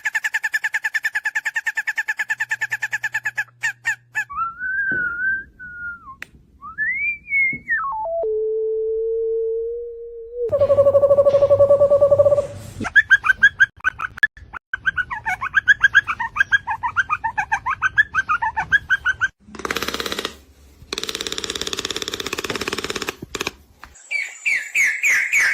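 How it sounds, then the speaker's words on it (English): Played recording of birds, with cooing doves and pigeons, whistled calls and song phrases following one another in separate segments, loud and close, with electronic tone-like sounds between some calls. "Let's listen to some birds."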